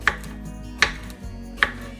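A knife chopping an English cucumber with its thin skin left on against a cutting board, three crisp evenly spaced cuts about three quarters of a second apart, close and clear with no talk.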